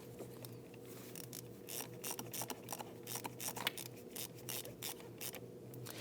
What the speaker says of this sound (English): grab our 10mm socket and then snug down this harness right here